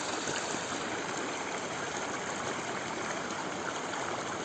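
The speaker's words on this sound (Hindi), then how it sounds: "आप ये नदी की साउंड सुन सकते हैं" Flowing river water rushes in a steady, dense wash of sound, constant and fairly close, with no voices or other noises, near Dehradun, Uttarakhand.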